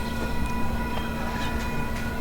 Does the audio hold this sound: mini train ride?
yes